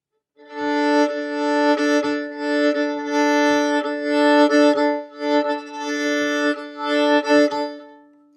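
Solo fiddle plays a steady, lilting Appalachian shuffle rhythm, a long slurred down bow connecting to the down bow on the downbeat, notes pulsing in a repeating pattern with clear accents, close and fairly loud, no voices.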